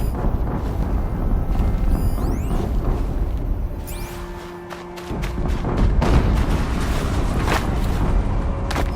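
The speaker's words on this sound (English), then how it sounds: "An explosion." A deep explosion in Horizon Zero Dawn erupts out of busy combat noise and whooshes, then a loud rumbling blast and crackling debris dominate the final seconds.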